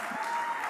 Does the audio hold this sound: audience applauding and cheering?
yes